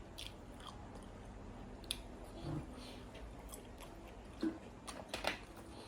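Close, wet chewing and biting on spicy grilled pork neck, steady squishy mastication with a few louder crunchy bites near the end.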